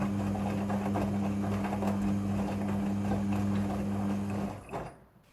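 A Midea front-loading washing machine rinsing, giving off a steady motor hum with a strong tonal drone that runs continuously, then shuts off abruptly near the end and leaves quiet behind.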